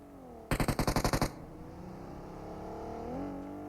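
In PUBG Mobile, a rapid burst of about eight loud mechanical pops, then a steady car engine drone that rises slightly as the vehicle draws nearer.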